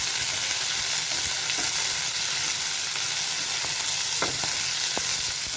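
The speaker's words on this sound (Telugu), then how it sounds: "కాస్త కొత్తిమీర ఇవన్నీ వేసుకొని కాసేపు ఫ్రై చేసుకోవాలి" Curry leaves, fenugreek leaves and coriander fry in a pan with a dense, constant sizzle and a few faint stirring taps, heard up close without talk.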